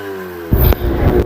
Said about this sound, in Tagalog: Ning andar na gyud ang ako ang motor.